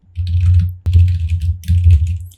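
Computer keyboard typing while entering text in AutoCAD, a close, steady patter of keystrokes in two bursts separated by a brief pause, with no voices.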